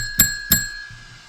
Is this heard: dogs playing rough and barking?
no